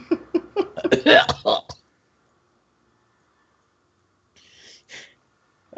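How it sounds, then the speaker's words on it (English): A person with hiccups lets out two short, sharp hiccups close to the mic. They come a fraction of a second apart after a stretch of talking and a quiet pause. "Got the hiccups. Yeah, hiccups are a pain."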